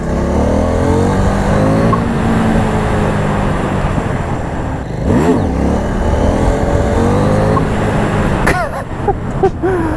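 Husqvarna Vitpilen 801 motorcycle revving hard during a wheelie attempt, close and loud, with the engine pitch climbing and falling through several rises and a sharp burst of revs near the end.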